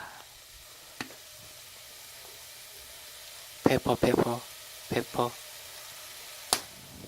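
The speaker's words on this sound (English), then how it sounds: "Keep frying." Beef sizzles steadily in a pot for Korean beef stew, a soft constant crackle under brief bursts of nearby talk and a couple of sharp clinks.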